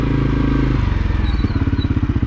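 A CFMOTO CForce 400 ATV fitted with a clutch kit starts up loud and close, its engine settling into a fast, steady idle chugging with a regular pulse.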